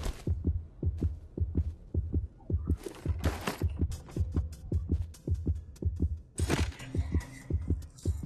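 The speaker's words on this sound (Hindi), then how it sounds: "मेरे दिल की धड़कन बढ़ गई थी।" Heartbeat sound effect in a VR horror video game, a steady thumping lub-dub pulse of roughly eighteen beats, close and moderately quiet, with brief hissing game noises in between and no speech.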